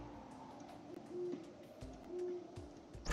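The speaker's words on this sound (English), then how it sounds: "it's an owl." An owl in the video game Terraria gives two low, steady hoots about a second apart, moderately faint, with no talking over them.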